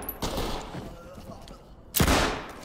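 Gunfire from a suspect's gun in the tactical shooter Ready or Not, one sharp burst near the start and a second loud blast about two seconds in, over faint background noise.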